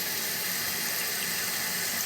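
A toilet tank refilling after a flush valve replacement, with water rushing steadily into the tank as a continuous, even hiss of running flow, fairly loud and close throughout.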